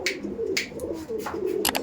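Mangalgiri pigeons coo close by, soft throaty calls rising and falling in a run of repeated phrases, with a few brief sharper notes over light background noise.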